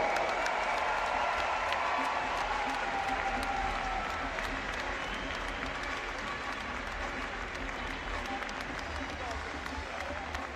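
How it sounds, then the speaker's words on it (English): A crowd at a college basketball event honoring a former player applauds steadily for about ten seconds, a dense wash of clapping and cheering that fills an arena, with faint voices mixed in. "one last round of applause for FSU legend Charlie Ward"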